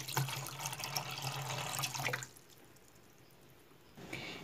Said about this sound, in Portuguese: 1 litro de água vou colocar e vamos levar para o fogo.